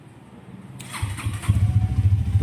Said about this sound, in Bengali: এই বাইকে কেমন এক্সস্ট নোট পাবে, তো সেটা আমি বাইকটাকে স্টার্ট করে তারপর তোমাদের দেখাচ্ছি।